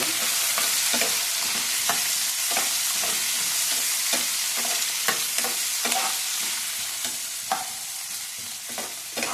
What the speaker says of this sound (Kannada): ಎಲ್ಲ ಫ್ರೈ ಮಾಡ್ಕೊಬೇಕು.